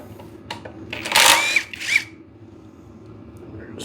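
A power drill spins briefly while backing screws out of an engine during an engine swap, giving two short whirring bursts amid clinks and shuffling tool handling at close range.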